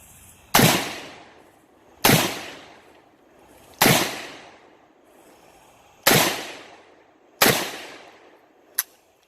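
Five loud, sharp 7.62 rifle shots fired without a muzzle flash hider, spaced roughly every one and a half seconds outdoors, each with a long decaying echo, then a small sharp click at the end.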